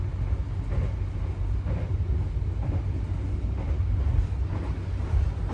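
Extra executive passenger train running through Perupuk station, a steady heavy low rumble of wheels on rails with rhythmic clatter, continuous and moderately loud throughout, no voices.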